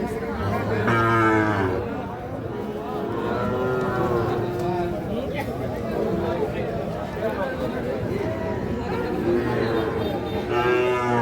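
Sahiwal cattle at the Ambari livestock market in Bangladesh moo repeatedly, loud and close, over a constant crowd murmur with voices chattering throughout.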